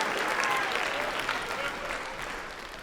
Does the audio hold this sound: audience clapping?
yes